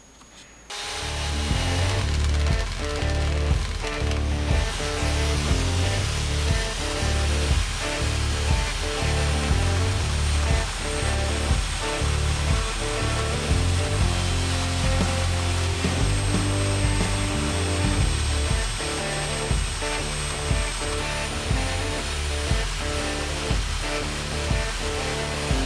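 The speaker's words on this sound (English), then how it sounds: "It stops it from opening while you're turning it in the drill and running it against the sander" A belt sander roars continuously as a wooden tealight holder, spun in a drill, is pressed against the belt, with a loud grinding rasp and rhythmic surges of contact throughout, no talking.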